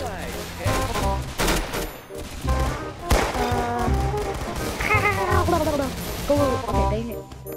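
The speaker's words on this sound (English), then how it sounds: "Oh, I got a laser gun." Rapid gunfire bursts come from the video game Arsenal, where a laser gun is firing. The sharp repeated shots and zapping effects overlap with game music and tones in quick, dense succession.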